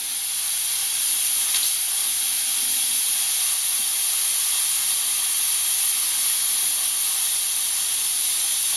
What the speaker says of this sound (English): I can see the steam coming now, and hear it as well